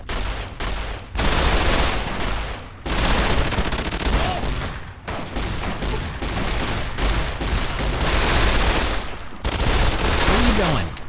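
Rapid gunfire from a hip-fired weapon in Fallout: New Vegas, loud dense bursts repeating across the scene with brief gaps, a voice speaking in between.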